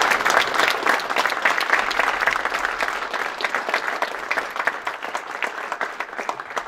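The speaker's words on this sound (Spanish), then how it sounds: "Un aplauso fuerte al Señor." A crowd at a men's church conference in Allentown, Pennsylvania, claps steadily and loudly for several seconds, a dense, sustained wash of applause with no voices standing out.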